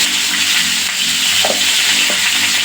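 Pointed gourd (potol) frying in hot oil in a wok makes a loud, dense, continuous sizzle up close, with a couple of faint stirring knocks and no speech.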